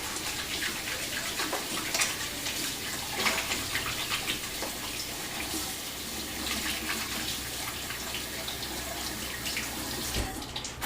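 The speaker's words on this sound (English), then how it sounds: "wash my hands off" Tap water runs steadily into a kitchen sink while hands are rinsed clean of sticky food residue, a continuous close splashing wash with no talk.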